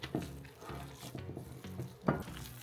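Chicken salad with eggs being mixed by hand in a bowl, soft wet stirring and squelching with a couple of louder clinks against the bowl around the start and near two seconds, close and quiet with no talking.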